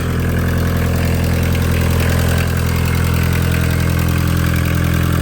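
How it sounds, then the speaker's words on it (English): A Volkswagen Caddy Mk1 pickup, a barn find, idles steadily and loudly up close after firing into life, a constant low rumbling drone holding even throughout with no talking. "And it just idles away really nicely."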